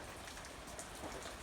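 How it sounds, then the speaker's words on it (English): A brief, light rain shower falls on a pasture, a steady soft hiss of drops throughout with no voices. "Looks like it was just a small rain."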